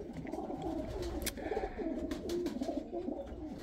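Pigeons roosting in a loft coo in low, rolling calls, several birds overlapping close by, with light scuffs and flutters of movement in between.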